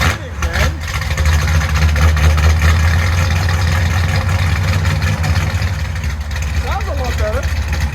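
A 1968 Chrysler Newport big-block V8 with long-tube headers and a Dynomax Super Turbo muffler idles loud and close. It gives a deep, steady, lumpy rumble that rises briefly in a couple of blips.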